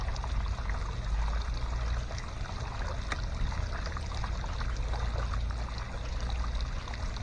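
Water pours steadily through a sluice box outdoors, a continuous close, rushing flow with broad hiss and low rumble throughout, no voices.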